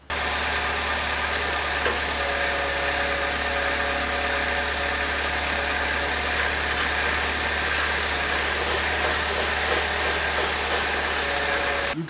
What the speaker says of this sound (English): I'm just going to start the car